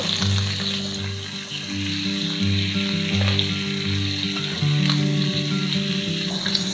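Chicken pieces, marinated with salt and Shaoxing wine, fry skin-side down in hot oil for a Japanese tofu oyakodon, giving a steady, close sizzle and crackle that runs without a break and without voices.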